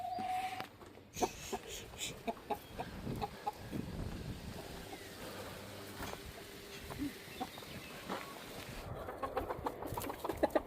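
Hens and young roosters cluck and murmur intermittently in a busy yard, short irregular calls near and far, with soft background noise and occasional clatter.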